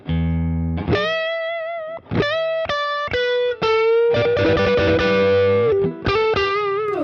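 Electric guitar with a clean driven tone through effects plays blues licks, with short bent notes and chordal stabs, and pauses between phrases. The playing is close, alone, and slightly distorted with chorus-like shimmer.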